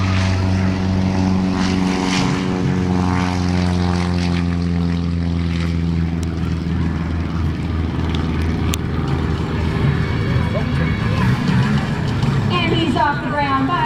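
Propeller aircraft takes off at an air show, a loud droning engine roar that swells and changes pitch as it passes, with an announcer talking over it.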